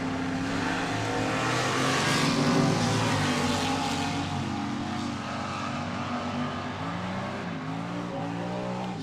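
Junior dragsters launch and race down a drag strip at an outlaw event, small engines revving loud and continuous with rising and falling pitch as the cars accelerate away, crowd and track ambience underneath.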